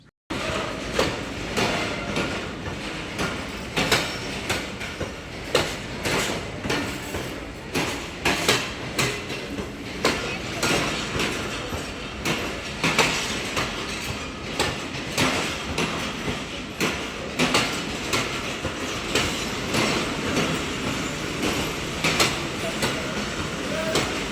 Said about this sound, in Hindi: ट्रेन जो है ना हमारी टाइम से आ गई थी